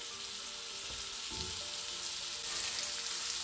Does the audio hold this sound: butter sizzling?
yes